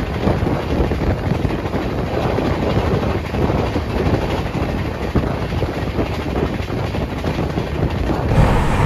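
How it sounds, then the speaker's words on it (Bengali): Express train 12353 from Bengaluru to Bhagalpur rushes through Jaleswar station at high speed. A loud, steady roar of wheels and wind buffeting rolls on without a break and swells slightly at the end. "সামনে আসছে দ্রুতগতিতে ট্রেন"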